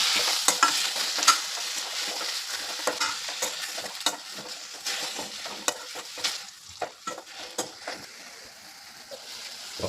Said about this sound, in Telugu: సన్నటి మంట మీద పాలకూరను ఇలాగా చక్కగా నీరు లేకుండా మరిగించుకోవాలి